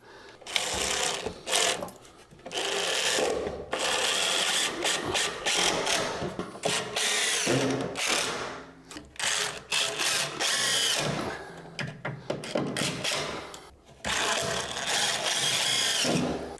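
A power drill drives screws into bathroom floor framing in repeated loud, close bursts of whirring and ratcheting, separated by short pauses.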